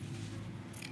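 Scissors make a single quick snip through doubled boxer-short fabric, close and soft.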